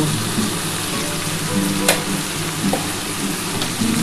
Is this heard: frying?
yes